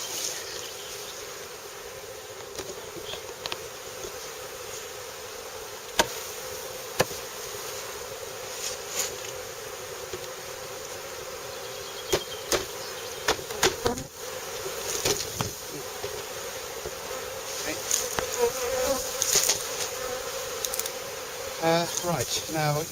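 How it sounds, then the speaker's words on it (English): Honey bees swarm around a hive and nucleus box, a constant close buzzing drone with scattered louder passes of individual bees, lasting throughout with no clear talk. "There's still a lot of bees hanging around the nuke,"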